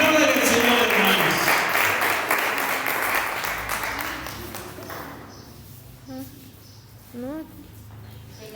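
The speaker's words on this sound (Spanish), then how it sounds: "Apláudale al Señor, hermanos." A church congregation at a Sunday service claps loudly in unison, the applause fading gradually over several seconds before a voice talks over the quieter room.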